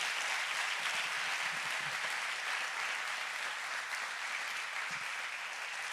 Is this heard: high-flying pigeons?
no